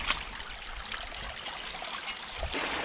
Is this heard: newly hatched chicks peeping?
no